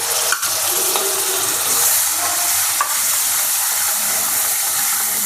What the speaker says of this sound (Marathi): सगळं मिक्स करून घ्यायचं आहे एक जीव करून घ्यायचा आहे आणि तेल सुटेपर्यंत आपल्याला परतून घ्यायचं आहे